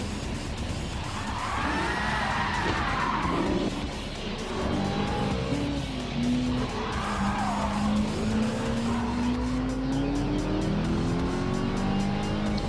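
A race car drifts in Gran Turismo 7, tires squealing in long wavering howls over a steady engine roar, with pitch sweeping up and down through the slide.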